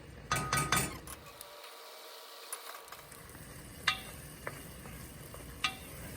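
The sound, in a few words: stirring risotto with edamame in a pan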